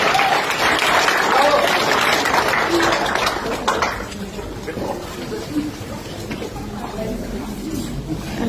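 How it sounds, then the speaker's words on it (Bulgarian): Dense audience applause fills the room at a social experiment stage show, loud and steady at first, then thinning into scattered claps and murmuring voices. "Аплодисменти за всички вас!"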